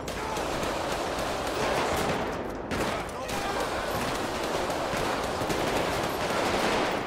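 Sustained heavy gunfire rattles almost nonstop through a police patrol shootout in GTA 5, dense bursts with one brief lull, while a voice talks over the din.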